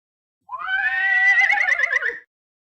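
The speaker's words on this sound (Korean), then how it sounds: "정신없이 달리던 탕명에게 정겨운 말 울음소리가 들렸다." A horse whinnies once as an audiobook sound effect, a loud, close, wavering neigh lasting nearly two seconds against silence.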